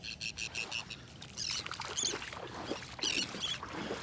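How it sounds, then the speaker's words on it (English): Rapid high-pitched chirps and twitters of birds on a beach in North Naples, Florida, in repeated bursts, fairly close, over a soft background wash, with no one talking. "Listen to all the birds."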